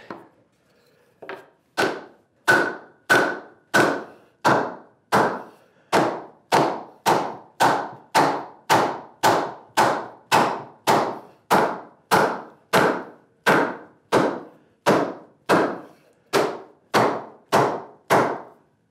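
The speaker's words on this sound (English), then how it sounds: "Big hammer." A big hammer strikes over and over in a steady, even rhythm while building a plywood workbench, about two dozen loud, sharp blows with brief pauses between.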